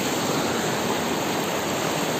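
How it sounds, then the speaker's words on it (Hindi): Water flows steadily past a fishing spot, a loud, continuous rushing wash with no pauses or other sounds. "थोड़ा पानी बह रहा है यहाँ से"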